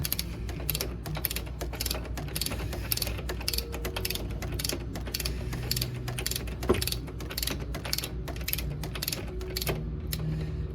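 A torque wrench ratchets in rapid, repeated clicks while the rear axle nut of a Honda GL1500 Goldwing is tightened to 110 Nm, with the nut counterheld by a screwdriver through the pin on the far side.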